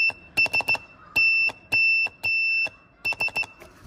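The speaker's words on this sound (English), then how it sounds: "I've made a little Morse code machine." A loud electronic buzzer on a simple arcade-button Morse code circuit beeps in Morse-like patterns, quick short pips mixed with longer sustained tones, close and clear with brief gaps of quiet.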